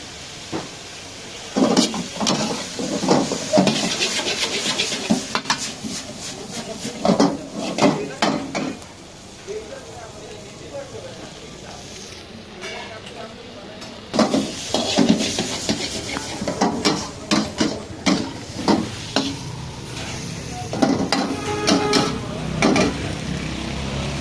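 Spoon or spatula clattering and scraping in a hot pan with a soft sizzle as beef and vegetables are stir-fried with soy and chili sauce, coming in repeated busy bursts with short pauses, no talking.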